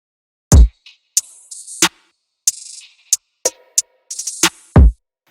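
Simple FL Studio drums, including a snare with slight reverb, playing over an RnB sample loop: sparse, punchy hits and short bursts spread over five seconds with gaps of silence between them, no talking.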